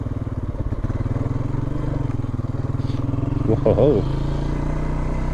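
A 2004 Honda Rancher 350FE ATV engine climbs a hill in the Catskills in third gear, a steady close, loud chugging drone with a brief rise in revs and clatter near the end, and a short exclamation from the rider.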